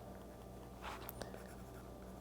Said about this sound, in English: I'll write it down here.